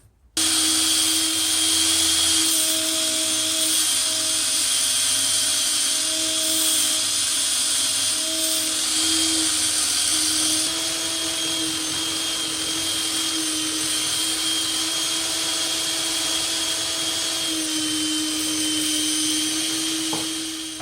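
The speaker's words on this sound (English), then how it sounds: "So I'm gonna chuck these up into my drill, sand them down just a little bit" A power drill spins wooden mallet pieces chucked in it while they are sanded down, giving a steady, loud whirring drone with a faint high whine that holds continuously for about twenty seconds, with no voices.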